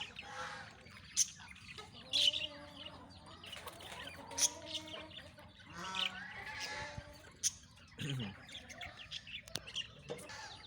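Small baby chicks peep in rapid high chirps, some louder and nearer, scattered over a quiet low background with a few bleat-like calls from other poultry, out in cold winter weather.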